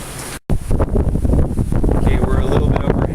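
Steady north wind at 12 to 15 knots roars across the microphone on a sailing boat, a broad rushing buffet with water sounds beneath, continuous and loud after a brief dropout at the start.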